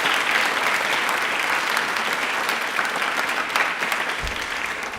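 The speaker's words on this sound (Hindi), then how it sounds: "एक बार तालियां प्लीज जोरदार बजा दीजिए।" Loud, sustained applause from a quiz program audience about Indian Railways, a dense steady wash of clapping that fills the stretch without a break.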